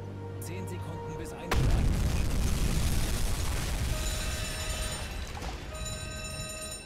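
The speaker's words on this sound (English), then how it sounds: "Right, 3 torpedoes away." In the submarine game Uboat, aboard U-606, a torpedo launch sets off a sudden heavy boom that swells into a sustained deep rumble and hiss, loud and close, carrying a faint mechanical whine.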